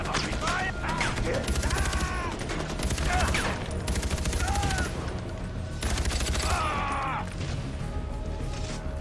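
Rapid bursts of automatic gunfire and scattered shots ring out in a Far Cry 4 firefight, loud and repeated across the scene, with voices shouting beneath the shooting.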